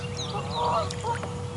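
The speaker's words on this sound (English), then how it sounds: "get serenaded by some geese at the very least" Geese honking beside a river, a few nasal calls overlapping against a steady low outdoor rumble, moderately close, with no talking.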